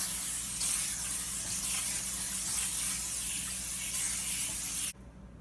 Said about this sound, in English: So first we gotta put the olive oil in this pan.